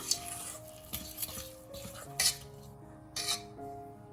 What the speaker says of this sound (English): Mix well till you get a smooth batter.